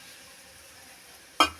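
Plain vermicelli is stirred as it fries in a pan over a gas flame: a faint, steady sizzle, then one sharp scrape or clatter of the utensil against the pan near the end.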